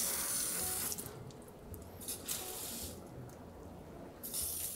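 Houseplants get watered with a fine spritz followed by a heavier drench, heard as bursts of hissing spray and a continuous close splashing flow of water.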